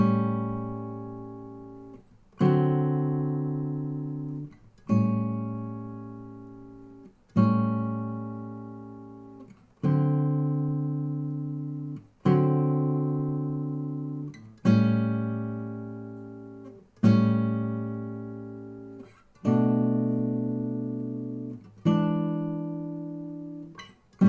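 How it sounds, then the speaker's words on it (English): Guitar strumming a jazzy blues chord progression, about ten separate chords each struck once and left to ring and decay, evenly spaced at a slow, steady pace and heard clearly on their own. "I'm just going to play the chords through and let you have a listen at what this progression sounds like"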